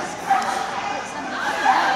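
A dog gives short yips and a couple of whimpers over the murmur of a crowd and voices, moderately loud and fairly near.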